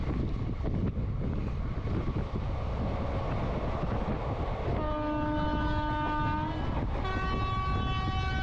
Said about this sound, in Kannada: ನಮ್ಮ ಟ್ರೈನ್ ಈಗ ರಾಮನಗರ ರೈಲ್ವೆ ಸ್ಟೇಷನ್ನ ಸ್ಕಿಪ್ ಮಾಡ್ತಿದೆ.